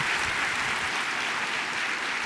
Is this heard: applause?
yes